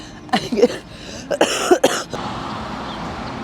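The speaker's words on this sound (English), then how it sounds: "It's just like been a really bad cough" Several harsh coughs in quick bursts, close by, followed by a quiet fading background.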